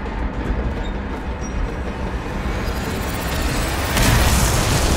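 A bomb goes off in Dishonored, a loud, sustained rumbling roar that swells to a heavier burst near the end, with no talking.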